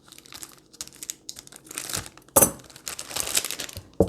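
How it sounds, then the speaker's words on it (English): Kitchen shears cutting along the seam of a cold plastic package, giving a close run of crinkling plastic rustles and snips, with a sharper crackle midway and no talking. "I'm going to take my kitchen shears and cut along the seam."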